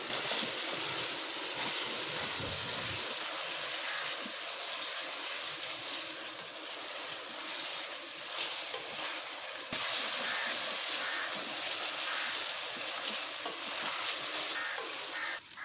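Chicken pieces fry with ginger, garlic and onion for a taro-root curry, giving a steady, fairly soft sizzle that runs unbroken throughout with no talking.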